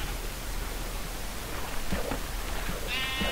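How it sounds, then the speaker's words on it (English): A Minecraft sheep gives a short bleat near the end, heard faintly over a hissing, noisy game background. "You two sheep, I need your wool."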